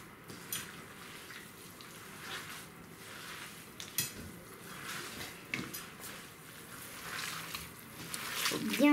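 Mantu dumpling filling is mixed in a bowl. Soft, irregular scraping, squishing and clinking sounds carry on steadily at a low level, close by and without talking.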